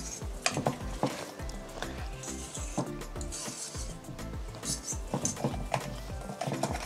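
Batter made with baking powder being stirred in a pan, the spoon scraping along the edge in repeated rubbing strokes, close by, with a faint clatter underneath and a steady background bed.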